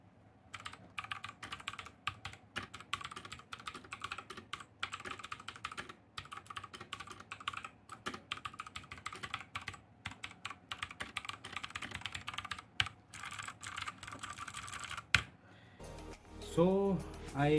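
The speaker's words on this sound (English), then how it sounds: "Now comes the most important part, the sound test of this keyboard." Typing on a Cosmic Byte CB GK 16 Firefly clicky mechanical keyboard, a close, steady run of sharp keystroke clicks with a brief pause and some faint noise near the end.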